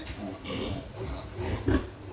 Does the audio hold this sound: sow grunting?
yes